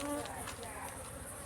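Honey bees swarming into a hive box in a village, a faint buzzing hum blended with rustling and background noise.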